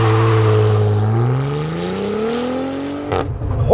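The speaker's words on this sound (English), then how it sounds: "CT4V Blackwing manual transmission with launch control. in sport traction." A 2022 Cadillac CT4-V Blackwing with a 3.6-liter twin-turbo V6 and six-speed manual launches under launch control, its loud engine note climbing steadily in pitch before a sharp break near the end as it shifts.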